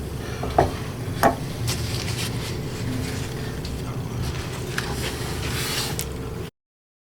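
Pork tenderloin hits a hot stainless steel pan with beer, giving a steady close sizzle and frying hiss with a couple of brief clanks near the start, no voices.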